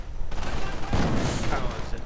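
Mortar rounds land in a real-time strategy game during a 1v1 match, a dense rumbling barrage of booms and crackling blasts that swells after the first second and keeps rolling, with a commentator's voice partly under the noise.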